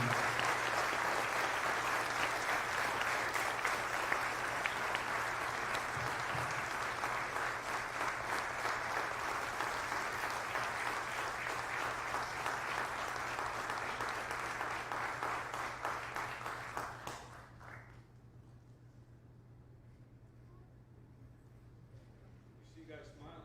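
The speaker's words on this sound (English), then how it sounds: "please, a big round of applause for these outstanding young men and women" An audience at the Sayville Honor Society awards ceremony claps long and hard, the dense applause holding for about seventeen seconds before fading out, followed by quiet room tone with a faint low hum.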